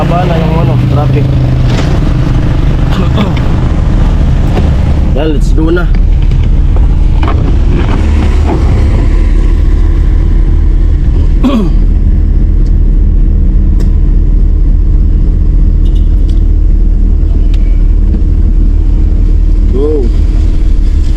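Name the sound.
road traffic, cars passing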